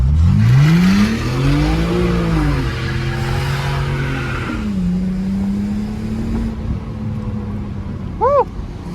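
A BMW car engine revs hard as it accelerates through a corner, the pitch rising and falling through gear changes, loud and close from inside, ending with a short chirp that may be tires.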